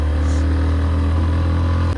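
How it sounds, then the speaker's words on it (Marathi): A motorcycle engine labors in first gear as it climbs a steep, snowy high-altitude road toward Umling La in Ladakh. It gives a steady, loud, close drone throughout. "आणि सेकंडवर सुद्धा गाडी चढत नाही आहे, त्याकरता फर्स्टच टाकावं लागतं आहे"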